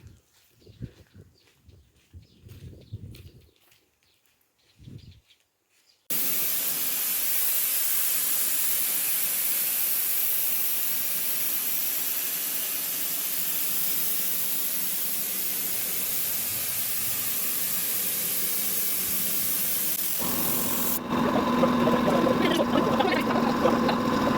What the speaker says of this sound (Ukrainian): Ось такий компресор маємо.